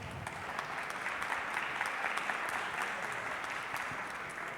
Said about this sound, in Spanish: para los cuales les pedimos un fuerte aplauso